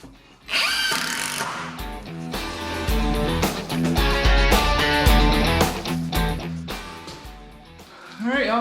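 A power drill drives screws into a wooden kayak storage rack, giving loud, repeated whirring bursts of varying length with voices heard alongside.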